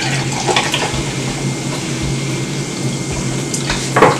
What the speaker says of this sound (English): Now I'm going to be pouring this. I'm using this because I'm supposed to use lemonade, or you can use any fizzy drink of your choice.